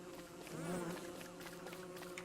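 Bees buzz in the Don't Starve video game, a faint, soft droning hum with a brief swelling whine partway through, heard alone without talk.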